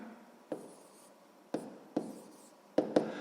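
Pen or pencil scratching on paper while a sixth-grade math fraction exercise is written out by hand, soft continuous strokes broken by a few sharp taps, close and quiet with no talking.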